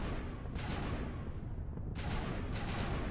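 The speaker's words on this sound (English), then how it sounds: "What are they shooting at?" Distant gunfire in the video game Mass Effect, two bursts of crackling shots rising over a steady, loud background rumble.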